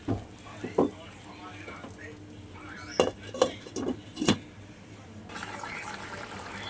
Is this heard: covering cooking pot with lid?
yes